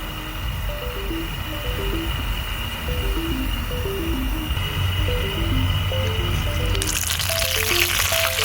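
Grouper (lapu-lapu) fillets frying in vegetable oil in a backyard cooking setup: a steady, dense sizzle throughout, with soft background music and a brighter crackling surge toward the end.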